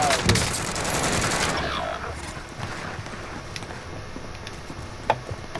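Gunfire in the video game Call of Duty: Modern Warfare, a dense burst of shots for the first second and a half, then scattered fainter shots under a noisy bed, with one sharp crack near the end.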